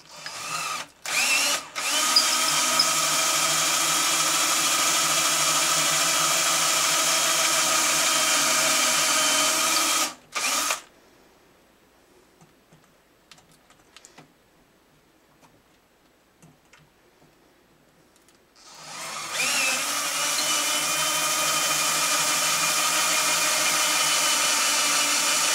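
A power drill whines steadily at close range drilling holes in wood for guitar tuning machines, stops for several quiet seconds with small clicks, then starts up again and runs on.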